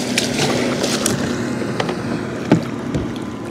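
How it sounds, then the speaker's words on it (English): A boat passing on the water during a flathead fishing outing, heard as a steady broadband motor-and-wash rumble close by, with a few brief knocks and bumps near the end; no one talks. "as this boat goes by here."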